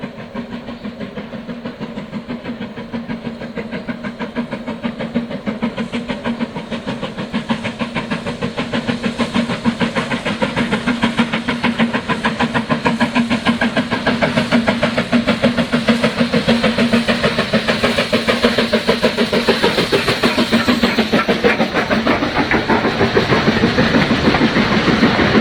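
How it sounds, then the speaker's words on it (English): Steam locomotives working hard up the bank from Weybourne to Holt on the M&GN line, a dense, steady chuffing exhaust beat that grows louder as the engine nears, with no talk. "a good place to video engines working hard away from Weybourne up the bank to Holt, as we shall see and hear now"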